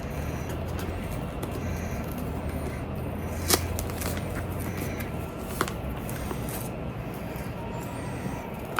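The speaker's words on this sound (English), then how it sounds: "so I'm gonna start unwrapping it" A paper-wrapped blind date with a book package is torn open and unwrapped up close, a steady crinkling rustle broken by a few sharp rips.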